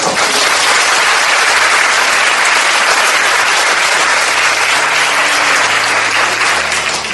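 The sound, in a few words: audience applause of thanks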